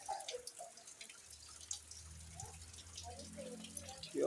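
Rain falling and dripping outdoors on a farm field, a soft steady patter with scattered drips, fairly faint, with occasional voices in the background.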